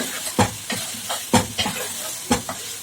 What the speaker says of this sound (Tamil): நம்ம இப்போ வதக்கி வச்சுக்கலாம்.